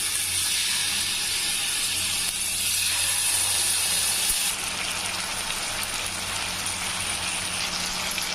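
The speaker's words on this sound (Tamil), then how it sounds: "ஒரு பேன் வச்சுருக்கேன், அதில் நம்ம பொரிச்சுக்கலாம்" Marinated chicken tikka kebab pieces fry in a pan over high flame, giving off a steady, loud steamy hiss and sizzle that shifts slightly partway through and continues without pause.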